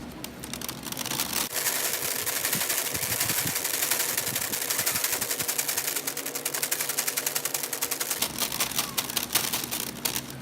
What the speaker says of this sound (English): Maybe I'll try to turn the fan up a notch to medium